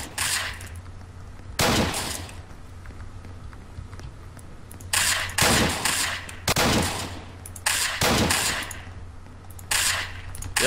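Gunfire in the video game Apocalypse Rising, arriving as several loud bursts of rapid shots separated by short pauses, with no talk over them.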